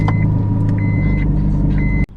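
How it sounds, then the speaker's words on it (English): A Scion tC engine idles after a cold start with a steady low rumble, a faint high whine running through it, before the sound abruptly drops off near the end. "Gonna start up the car."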